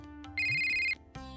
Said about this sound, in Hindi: फोन किसका है?